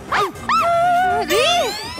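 A person imitates a barking dog, making a string of yelping, whining barks with rising and falling pitch, close and loud, several calls in quick succession.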